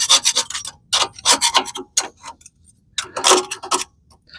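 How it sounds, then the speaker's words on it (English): Repeated close scraping as salt is worked off a John Deere 445 lawn tractor, coming in rhythmic bursts of rasping strokes separated by short pauses, loud and without any talk. "Just gonna do a little initial scraping here."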